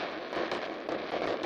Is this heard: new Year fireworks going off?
yes